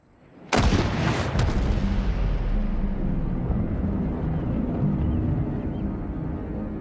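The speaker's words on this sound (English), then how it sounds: "Joel demonstrates this with the modern rifle" A single sharp, loud shot from a modern rifle rings out near the start, followed by a long, rumbling echo that slowly decays across the remaining seconds.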